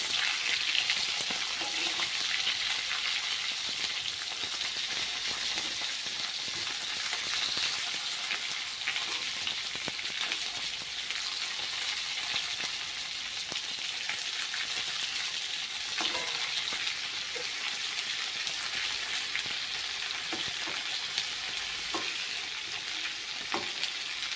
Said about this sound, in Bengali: অল্প পরিমাণে একটুখানি লবণ দিয়ে দেবো, যাতে পটলটা তাড়াতাড়ি ভাজা হয়ে যায়।